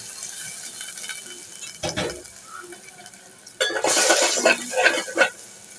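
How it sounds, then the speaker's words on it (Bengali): Water goes into a pot of frying ginger-garlic paste for a dried-fish and vegetable curry, with a short clatter, then a louder splashing, bubbling rush mixed with metallic scraping, close by. "এখন দিয়ে দিচ্ছি পানি"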